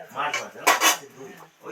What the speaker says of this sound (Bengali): নেড়ে চেড়ে ভালো করে মিশিয়ে দিলাম